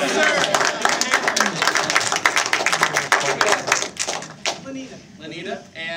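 A business expo entertainment crowd gives a volunteer a round of applause: dense, crisp clapping from a nearby audience that carries strongly for several seconds, then thins out into a few scattered claps.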